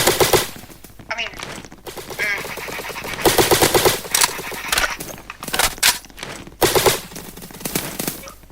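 Rapid automatic AK rifle fire in a Roblox airsoft game, several loud fast bursts separated by short gaps, with a player's voice talking over the shooting at times.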